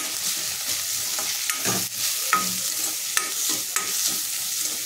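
Asafoetida, turmeric and goda masala frying in hot oil, giving a continuous close sizzle with occasional spoon scrapes and light clinks of stirring.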